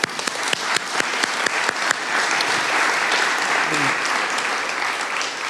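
A festival audience applauds the organisers, starting with scattered sharp claps that quickly merge into dense, sustained applause from a full room.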